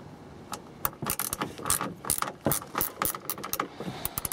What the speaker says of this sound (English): once you've got your ratchet with your 10mm sockets, we can start the removal process.